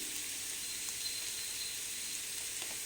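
Onions with a little salt frying in a pan for an egg omelette give a faint, even sizzle that runs steadily from start to finish, quiet and without voices.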